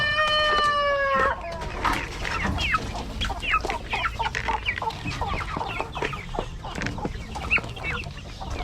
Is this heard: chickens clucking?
yes